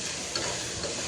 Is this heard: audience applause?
no